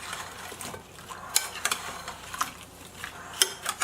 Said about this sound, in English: Now I'm just going to give this a little stir.